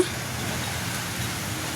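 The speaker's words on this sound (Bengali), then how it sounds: "আজকে সকাল থেকে এরকম বৃষ্টি পড়েই যাচ্ছে ঝিরঝির ঝিরঝির ঝিরঝির কোনো সময় মুসুলধারে" Steady drizzling rain falling since morning, a soft, even hiss that holds at a faint, constant level throughout with no voices over it.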